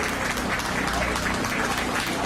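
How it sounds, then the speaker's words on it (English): Applause at a county fair beef show for the senior champion, a short burst of steady clapping from the crowd in the show ring. "let's give her a round of applause"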